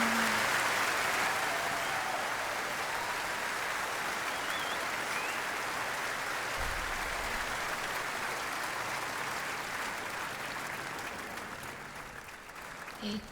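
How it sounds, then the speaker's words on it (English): Audience applause at a concert as a 15-year-old singer is welcomed on stage, a steady broad wash of clapping held throughout, fading slightly toward the end. "Give her an enormous applause."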